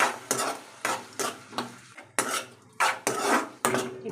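Small tomato pieces tossed into a spice tempering for a Telangana-style stuffed brinjal curry sizzle under about eight rhythmic, loud spatula strokes scraping and clanking against the pan, with brief pauses between them.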